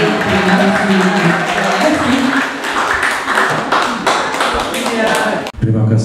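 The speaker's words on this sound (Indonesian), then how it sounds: "Beri tepuk tangan yang senang untuk Ibu Nilo." A room of teachers at a school gathering claps for a presenter, steady close-up applause with crisp individual hand claps, ending abruptly before a brief voice returns.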